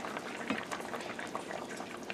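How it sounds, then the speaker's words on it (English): Tilapia sauce with a splash of calamansi juice simmering in a pan, a steady close bubbling hiss with soft pops and small liquid crackles throughout, no voices. "I'm going to sprinkle in about a capful of calamansi juice, give it a little bit of acid, let that simmer"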